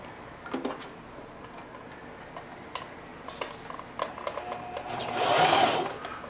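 Sewing machine with a hump jumper under the presser foot, ticking softly with scattered clicks, then a short faster burst of stitching toward the end, close and quiet.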